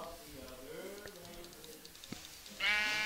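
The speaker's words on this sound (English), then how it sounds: "There's a sheep over here." Sheep bleating inside a video game world, heard faintly through ongoing game sounds, with a louder burst of noise near the end; a person talks over it.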